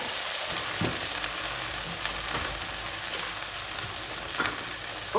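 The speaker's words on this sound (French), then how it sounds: "On va mettre notre concassé de tomates." Crushed tomatoes hit hot olive oil over softened onions in a pan for a kefta tagine, giving a loud, steady sizzle and fry with faint stirring scrapes throughout.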